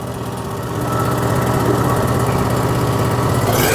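Toro TimeCutter EZT2200 riding mower engine running close by, a steady buzzing drone that picks up and grows louder after about a second, then holds a constant throttle.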